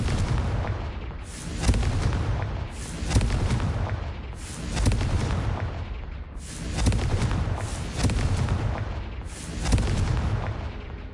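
Repeated fiery blasts from the Confringo spell in the Hogwarts Legacy video game, seven heavy booming bursts at roughly one-and-a-half-second intervals, loud and close, each trailing into a rumbling decay.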